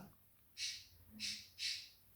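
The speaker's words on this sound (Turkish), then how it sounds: "Kuşların sesi çok fazla giriyor içeri odada" Three harsh, raspy bird calls in quick succession, faint and somewhat distant, heard from inside a room.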